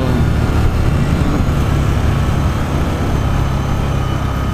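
A Victory Octane motorcycle's loud, steady engine roar with deep low rumble and throaty exhaust, continuous throughout with no talking.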